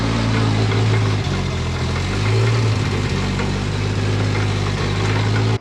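A Nissan Laurel C33 with an RB25DET engine idles loudly and close after a cold start, holding a steady, deep, throbbing drone with slight shifts in pitch and no one talking before it cuts off abruptly.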